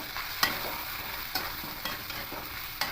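Chili powder being stirred into Malabar spinach curry as it fries in a pan, a soft constant sizzle with several distinct spatula scrapes at an uneven rhythm, close by and without speech.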